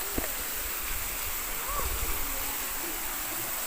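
A weak trickle of water at Dampalit Falls makes a soft, steady hiss of falling water, low in level, with faint voices murmuring in the background.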